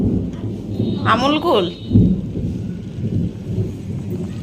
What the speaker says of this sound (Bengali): মেঘ তো সেই ডাকছে, কিন্তু বৃষ্টিটা ভালোভাবে ঝেড়ে গেছে